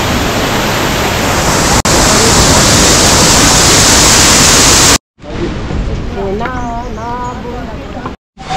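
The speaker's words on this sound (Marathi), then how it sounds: "हा बघा वॉटरफॉल जो आम्ही तुम्हाला तिकडनं दाखवला तो इथनं" Mountain waterfall on the trek to Kedarnath, a loud, close, steady roar of rushing water filling the first five seconds, followed after a cut by a quieter stretch where people talk over it.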